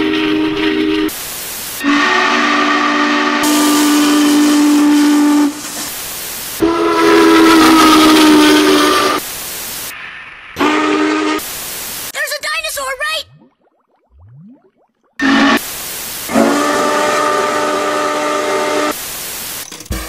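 Union Pacific steam locomotive #3985 sounds its whistle in a series of loud, close, chime-like blasts, some long and some short, with a brief quiet gap partway through.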